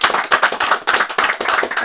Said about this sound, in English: Let's give him a round of applause out here.